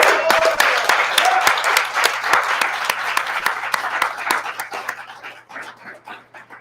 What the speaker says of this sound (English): Can we give a huge round of applause for our video crew?